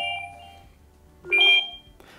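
A phone rings from the Garmin Instinct watch's find-my-phone feature: a short bright electronic tone bursts out briefly, louder than the quiet background and sitting alone without talk.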